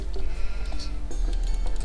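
Sheep bleating in the strategy game Age of Empires II, a few short synthetic bleats over a steady low game hum during a 4v4 random map match.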